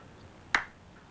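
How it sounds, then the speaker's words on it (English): A single sharp hand clap to wake someone from hypnosis, one crisp isolated crack against quiet room tone. "When I clap my hands, you'll be awake, fully aware of your surroundings."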